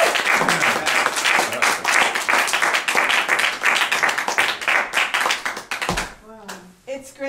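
An audience at a church birthday celebration service applauds steadily with dense clapping, then it fades out and a voice begins speaking near the end.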